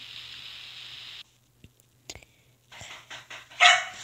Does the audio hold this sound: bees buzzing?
no